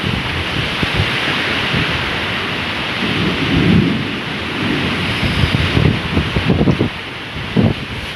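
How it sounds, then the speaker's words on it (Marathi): Thunderstorm with heavy rain and gusting wind near a petrol pump: a dense, loud roar of rain and wind buffeting the microphone, with deep rolling thunder swelling throughout and no speech. "कसलं तोफान सुटलं हा."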